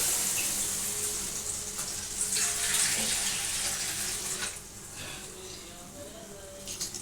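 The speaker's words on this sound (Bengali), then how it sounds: "এবার আমি যেটা করবো, এর মধ্যে পরিমাণ মতো জল দেব।" Water poured into a pan of Bengali snakehead fish curry with potato and lentil bori: a steady, close, hissing pour with light sizzle that thins out toward the end, with no talk over it.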